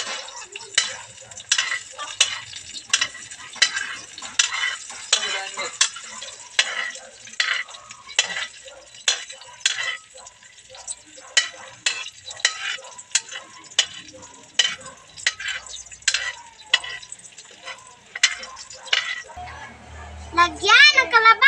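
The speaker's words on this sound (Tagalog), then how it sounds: "Haluin na natin." Squash and okra are being stirred in coconut milk in a pan, with quiet sizzling under repeated clinking scrapes of a utensil in an uneven rhythm, close by, while a voice is heard at times.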